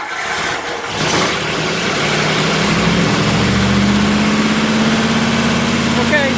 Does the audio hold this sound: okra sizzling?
no